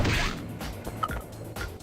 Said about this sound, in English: The sound of the nunchucks they drop hitting the ground